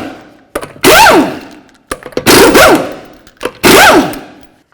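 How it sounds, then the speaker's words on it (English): Impact wrench zipping off 19mm lug nuts on a raised 2008-2012 Chevy Malibu: three loud bursts of rising, whining hammering, each about a second long, separated by short pauses with faint clicks between. "we're going to remove all 5 of our 19mm lug nuts."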